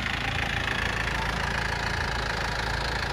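A motorbike engine runs steadily and fairly loud on a cold morning, a continuous rumbling drone with no talk.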